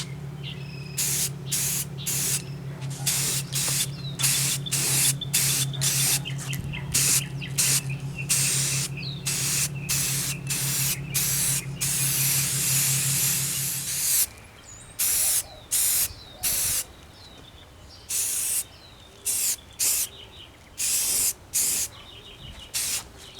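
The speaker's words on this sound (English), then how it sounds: "let's get some of that primer and spray it on here" Spray can of primer misting onto a model 0-4-4-0 locomotive, a run of short hissing bursts with a longer steady spray in the middle, close and clear, with a low hum beneath the first half.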